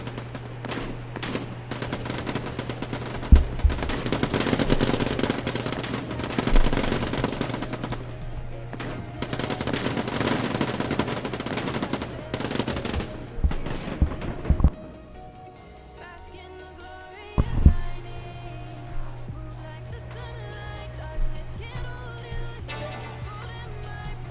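Automatic weapon fire from the video game Quantum League, with dense, sustained bursts of rapid shots that run loud for about fifteen seconds, then a brief lull, a sharp single burst and sparser game effects over a steady background hum.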